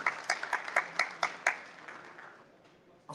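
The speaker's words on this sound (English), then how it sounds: "Please, a clap for him." Audience applause at a diabetes awareness and fundraising event in Sydney: a cluster of loud, distinct claps in the first second and a half, then a softer spread of clapping that fades out.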